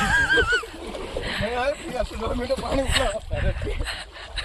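People leap into the sea with water splashing and sloshing around them, heard amid continuous excited talk and shouting from a group close by.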